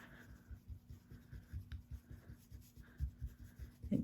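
Rubber eraser scrubbing pencil lines off a handmade stamped card, a soft close-up rhythmic rubbing with short repeated strokes and a small knock near the end.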